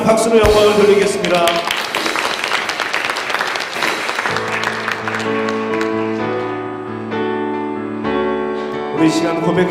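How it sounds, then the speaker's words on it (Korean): A church congregation at a New Year's Eve service applauds to give glory to God, a sustained wash of clapping over organ or keyboard chords that carries on beneath the music. "하나님께 박수로 영광을 돌리겠습니다"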